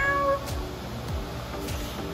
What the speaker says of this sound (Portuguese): Gatinho.